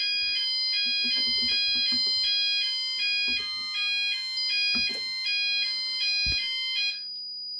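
A home fire alarm system (EMS 5000 Firepoint) sounds during a detector test in a repeating pattern of high electronic tones, with a few short panel relay clicks and bumps underneath before it cuts off.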